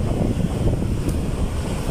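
Wind buffeting the microphone at the seaside as a storm arrives, with a low rushing roar of surf underneath, continuous and close, with no voices.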